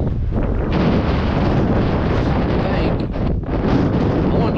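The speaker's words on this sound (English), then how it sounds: "Super windy." Strong wind buffets the microphone in a loud, constant roar with low rumbling gusts, completely filling the clip.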